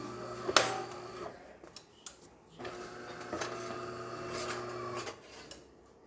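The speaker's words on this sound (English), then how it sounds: "the brew unit will move all the way to the home position where it will be ready for us to start brewing" A motor whirs and mechanical clicks and clunks follow as a DeLonghi espresso machine's brew unit moves back to its home position after a cleared jam. The close mechanical sequence runs in two whirring stretches with a brief pause between them and no talk.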